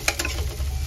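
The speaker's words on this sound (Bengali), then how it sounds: "কাঁচা লঙ্কা দিয়ে দিচ্ছি" Slit green chillies go into hot oil with onions already frying, giving a short steady sizzle with a couple of sharp crackling pops at the start.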